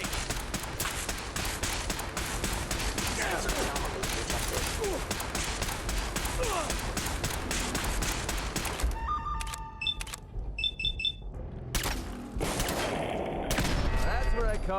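Turrets firing in Fallout 4, a dense, sustained volley of rapid shots for several seconds, then sparser bursts and clicks before the barrage picks back up, loud and close.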